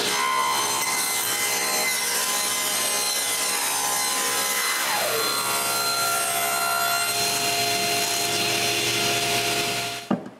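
A power saw cuts wood panels for a bathroom cabinet, a loud steady sawing whine running almost without break, then stopping abruptly near the end.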